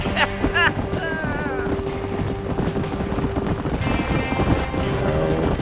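Steady clip-clop of horse hooves from a ridden horse in Red Dead Redemption, a continuous trotting rhythm at moderate volume, with voices talking over the hoofbeats.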